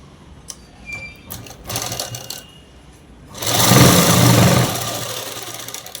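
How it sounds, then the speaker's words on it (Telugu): A sewing machine stitches the lining of a French cut dress, first in short stop-start bursts, then in a loud, steady run of several seconds close to the microphone before it eases off. "ఇప్పుడు లైనింగ్ మీద అనేది కుట్టు వేసేసుకోవాలి."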